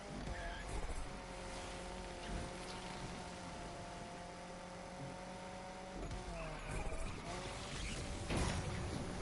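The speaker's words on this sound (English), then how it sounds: "I'm drifting so much that my car is actually getting nitrous." A car drifting in Need for Speed Unbound: a steady, loud engine roar with tonal whine and hissing tire squeal that runs throughout, swelling and shifting pitch toward the end.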